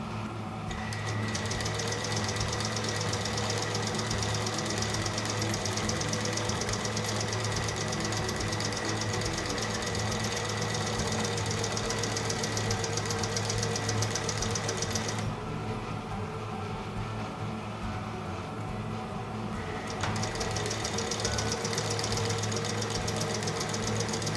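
A sewing machine back stitching Ankara fabric for a hair bow runs steadily and close for the whole stretch, a loud continuous mechanical whir with rapid rhythmic needle knocking that briefly lightens midway, with no talk.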